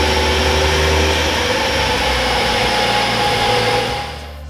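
A 10th gen Honda Civic engine with a PRL intake and race MAF runs at a steady, loud hum with a constant whine, easing down slightly near the end, no voices.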